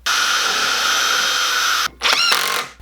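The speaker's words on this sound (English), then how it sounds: "I also like to pre-drill these holes to prevent cracking" A power drill whirs loudly and steadily for nearly two seconds, stops briefly, then pre-drills into wood again with a strained, rising whine.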